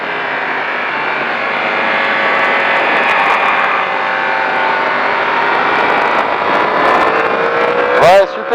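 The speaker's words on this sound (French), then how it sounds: "Filet de gaz et je accélère." A racing motorcycle engine on the Magny-Cours circuit drones at high revs with a steady rising pitch, loud and continuous, ending in a quick gear-shift blip.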